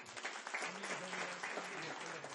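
Dense, continuous applause from a crowd at a religious assembly in Gadhpur, a loud, even roar of clapping with no breaks.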